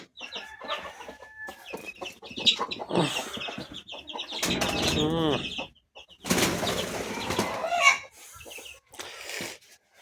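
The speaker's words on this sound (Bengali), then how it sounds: "আমার মুরগির বাচ্চা আছে মাত্র 4টা, ওদেরকে বের করে দিই।" Four young chickens leave their coop, giving clucks and chirps along with rustling and bursts of flapping wings, loud and close with short quiet gaps between.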